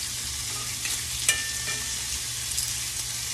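Shrimp sear in olive oil in a skillet with a steady, close, bright sizzle, and a brief metallic clack as the pieces are flipped partway through.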